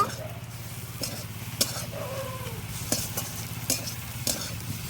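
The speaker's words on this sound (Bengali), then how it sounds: "এবার সবগুলো একসাথে মিশিয়ে দেব" A spatula scrapes and stirs egg bhujia mixture around a pan in a few distinct strokes, with a faint sizzle and low hum underneath.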